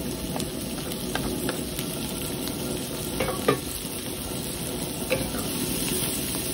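Green siling labuyo chilies frying with crispy sisig in a pan give a steady sizzle under occasional stirring scrapes and light clinks, close up with no talk.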